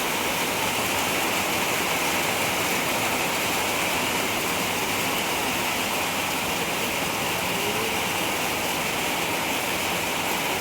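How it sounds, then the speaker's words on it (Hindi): Heavy rain pours steadily in the hills of Uttarakhand, a loud, dense, unbroken hiss like rushing water that fills the whole stretch with no voices. "कितनी बरसात है।"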